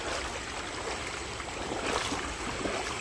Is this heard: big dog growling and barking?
no